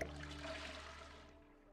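A toilet flushes in The Sims 4 with a steady, soft rush of water that fades slowly over a couple of seconds.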